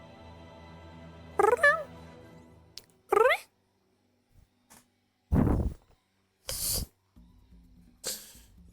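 A cat gives a few short meows close by, separated by quiet gaps and mixed with sniffs or sneeze-like bursts.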